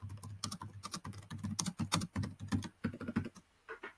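Rapid clicking of keys on a computer keyboard as an email message is typed on a Windows 10 PC, close and steady with brief pauses, no talking.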